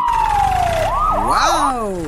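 A police car siren wails loud and close, sweeping down in pitch and then warbling up and down in quick cycles, heard near a tipper truck accident scene where a crane truck is pulling the lorry out.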